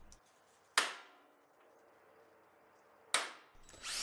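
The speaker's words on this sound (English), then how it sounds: "Each mark was then center punched." A center punch is struck against marks on the rocker panel of a 2001 Silverado, giving two sharp, close metallic cracks a few seconds apart over quiet background noise.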